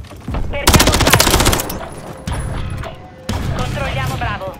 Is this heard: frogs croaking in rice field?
no